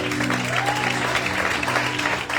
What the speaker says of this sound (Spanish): ¡Un aplauso a Dios en esta hora!